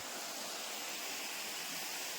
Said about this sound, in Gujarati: આ બધું પાણી જંગલમાંથી આવે છે અને અહીંયા જાય છે